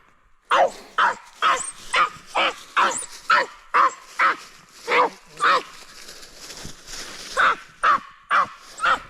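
Tracking dog barking on a deer trail, a loud close series of about fifteen sharp barks in a fairly regular rhythm, alone without talk.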